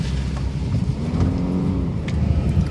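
A Subaru drives through sandpits at night, its engine a loud, steady low rumble with a faint rising whine as it pushes through the sand, heard close from inside the car.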